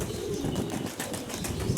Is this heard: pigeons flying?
yes